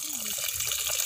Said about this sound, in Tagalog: Ilalagyan daw ng tubig, tapos hahaluin.